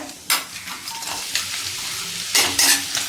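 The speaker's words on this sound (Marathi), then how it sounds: "हा वाटलेला मसाला एक मिनिटांपर्यंत परतवून घ्यायचा आहे" Ground masala and cumin seeds sauté in hot oil for a flat-bean curry, with a soft sizzle under a few sharp spoon scrapes and clinks against the pan.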